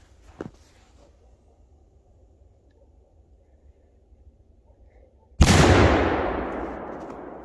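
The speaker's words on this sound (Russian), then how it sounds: "Давайте теперь взорвем обычный квадробум, без никакого эффекта" A quadrobum firecracker goes off with one sudden loud blast after a quiet stretch with a small pop near the start. The burst then trails away in a decaying roar.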